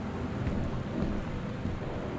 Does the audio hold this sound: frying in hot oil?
no